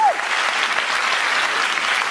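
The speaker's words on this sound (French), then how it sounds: "on sent que vous avez applaudi plus fort de fierté" Comedy show audience in France applauding loudly, a dense, even roar of many clapping hands sustained across the stretch with no talk over it.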